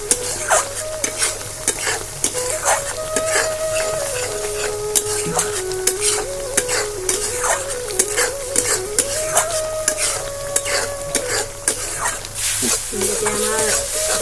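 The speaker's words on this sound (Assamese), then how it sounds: "তেনেকৈ আমি এতিয়া 10 মিনিট ভাজি ল'ম" Chitol fish fries in a pan of hot oil with a steady, close sizzle, while a utensil stirs and taps the pan in frequent sharp strokes. A faint tonal hum runs underneath.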